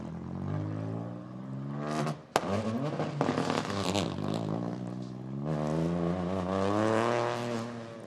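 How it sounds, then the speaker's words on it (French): A turbocharged rally car at a rally start in Ajaccio accelerates hard through the gears, its engine note climbing, dropping sharply at each shift, then rising again, loud and close with no talking. "On entend bien le bruit sur le passage des rapports."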